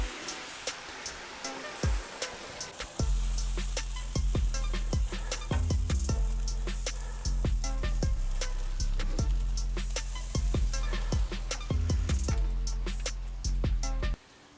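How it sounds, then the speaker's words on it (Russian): Shashlik meat frying in a kazan, a continuous crackling sizzle with dense popping spatters and sharp clicks, close and steady over low rumbling tones throughout. "самое долгое у меня жарится в казане, но я занимаюсь обжаркой."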